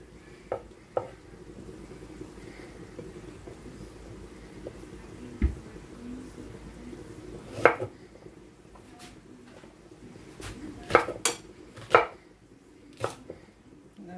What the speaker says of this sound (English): all I'm going to be doing is to cut the heads